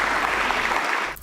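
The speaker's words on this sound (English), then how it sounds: "Special round of applause for them" A brief burst of steady applause for a party stream's channel members, even and fairly loud, thinning out at the very end.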